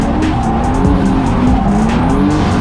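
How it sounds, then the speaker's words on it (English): A loud, continuous drift car engine roar from a turbocharged Ecotec with sustained tire squeal, close and steady throughout. "This is my drift car."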